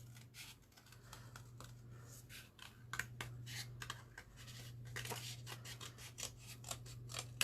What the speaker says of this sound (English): and then I just cut round